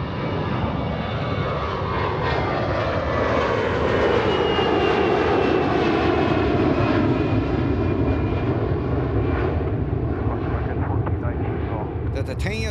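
A ten-year-old United Airbus A321 bound for Charlotte roars down runway 28R at Fort Lauderdale on a steep takeoff, a loud, broad engine rumble that swells and then slowly fades as the jet climbs away.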